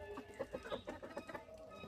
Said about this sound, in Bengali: মোরগ ধরা চলছে